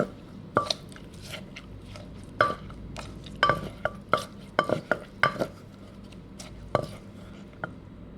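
Shallots and fermented fish sauce are pounded gently in a mortar for a green mango salad, giving irregular soft thuds and knocks with wet squelching between them, fairly close and without speech.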